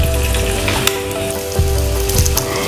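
Oil heating in a pan over a gas stove for a Tulu-style Kanile (tender bamboo shoot) curry, with coriander seeds and a little fenugreek, making a steady close sizzle with faint crackles and a few soft clinks throughout.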